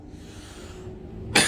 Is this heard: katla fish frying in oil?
no